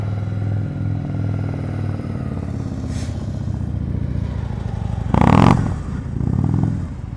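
A motorcycle putters slowly through a slow-speed practice session in Ohio, idling low before a sharp, loud throttle blip near the end, then settling back to a rumble.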